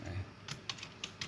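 Keys tapped on a computer keyboard while typing text into Microsoft Word, a few quick close clicks in an irregular rhythm.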